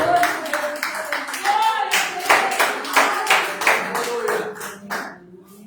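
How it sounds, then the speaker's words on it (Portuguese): A church congregation claps to welcome the youth group, sharp hand claps falling into a quick, fairly even rhythm, close and loud, with voices mixed in, tapering off at the end. "Vamos receber a mocidade da igreja com as palmas"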